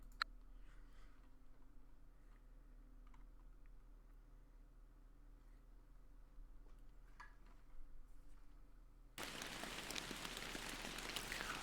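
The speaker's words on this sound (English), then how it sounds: "I did not know it rained in this." Soft, steady rain in the fishing video game Fishing Planet, a faint hiss with scattered light drops over a low hum, then the rain surges suddenly much louder near the end.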